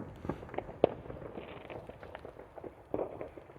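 Fireworks and firecrackers bang in scattered bursts around an open-air viewing spot, with a sharp close pop near the start and another cluster later over a constant crackling background.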